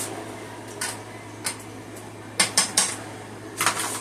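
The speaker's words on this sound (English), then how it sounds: "Let's give this rice a stir." Spoon scraping and clinking against a pot while rice is stirred, a few sharp metallic taps and scrapes spaced irregularly over a faint steady hum, fairly quiet and close.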